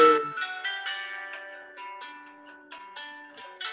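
A melodic electronic ringtone plays a series of bright tonal notes, fairly clear and steady, with no voices.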